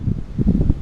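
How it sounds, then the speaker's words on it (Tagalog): Strong wind gusting into an abandoned, bankrupt shopping mall in the Philippines, a steady low rushing roar with soft buffeting swells, close and fairly loud, no voices. "Malakas ang hangin dito, pumapasok."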